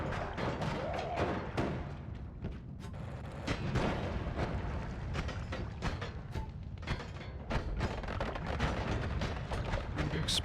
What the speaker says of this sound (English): Explosions is great.